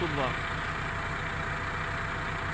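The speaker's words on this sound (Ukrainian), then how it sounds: "Це четверта понижена передача на МТЗ-892." An MTZ-892 tractor in fourth low gear spraying a field of winter barley, its diesel engine giving a steady, dense drone throughout, while someone talks briefly at the start.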